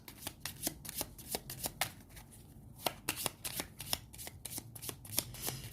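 Playing cards for the Tanto Cuore game being handled and drawn, a quick run of close, crisp flicks and rapid papery snaps, almost like a riffle, with no talk.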